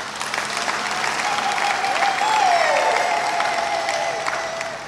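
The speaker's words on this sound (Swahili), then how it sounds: "Naomba tuwapongeze kwa makofi." A church congregation claps steadily and warmly for priests marking 50 and 25 years of priesthood, a dense, sustained applause from the crowd, with a faint tone sliding over it midway.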